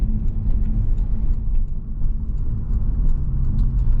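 A 2013 Porsche 911 Carrera S Cabriolet with PDK gearbox pulls away, its engine a steady low rumble heard from inside the cabin, smooth and unbroken with no voices.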